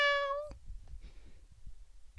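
A cat meows once, a clear, high harmonic call lasting about half a second, followed by quieter low rumbling and faint background noise.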